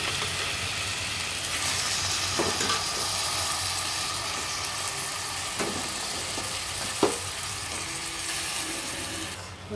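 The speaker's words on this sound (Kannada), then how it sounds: "ಇವಾಗ ಇಲ್ಲಿ ನಾನು ಪ್ರಾನ್ಸ್ ಸೇರಿಸ್ಕೊಳ್ತಾ ಇದ್ದೇನೆ." Prawns are dropped into a hot frying pan and sizzle steadily at moderate level, with a few soft clinks and stirring knocks over a continuous fizzing hiss.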